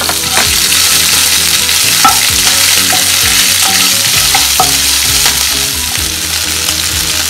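Curry leaves, chopped ginger and green chilli sizzle and fry steadily in a hot pan, with intermittent stirring scrapes and small pops throughout, close and loud, no voices.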